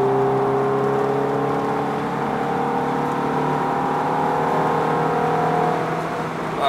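Ferrari cruising at speed in sixth gear, a steady, loud engine drone with layered harmonic tones and road rumble heard from inside the car, holding constant throughout.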